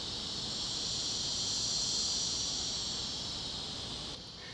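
A steady, high-pitched cicada drone hums continuously, fairly loud and even, fading slightly near the end.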